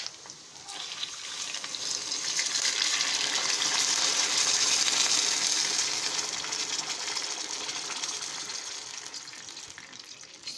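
Water pours and gushes into a hot pan of fried meatballs, hissing and sizzling steadily for several seconds before easing off, close by and with no talking.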